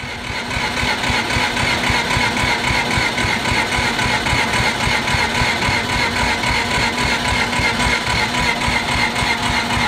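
A Mazda single-rotor rotary engine runs rich, giving a loud, continuous, rapid buzzing idle with even pulsing throughout, heard alone at close range.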